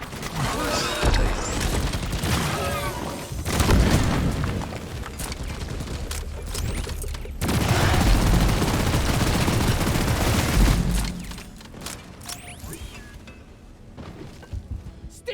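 SMG fire rattles through a Deep Rock Galactic mission in loud, rapid bursts, mixed with impacts and booms. The shooting thins into scattered shots near the end.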